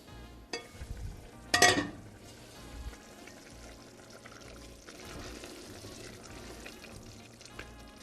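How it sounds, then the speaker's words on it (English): Stirring Persian celery stew in a pot and setting the lid on: a few soft scrapes and clinks, one sharper metallic knock in the second second, then quiet low simmering. "give it another stir and bring it down to low and put the lid on the pot"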